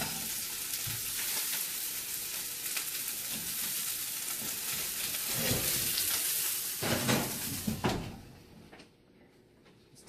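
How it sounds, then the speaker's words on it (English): Kale sautéing in a pan makes a steady, fairly loud sizzle with a few stirring scrapes and clatters, then drops to near quiet toward the end, with no one speaking. "I'm going to saute up this kale in a couple seconds here"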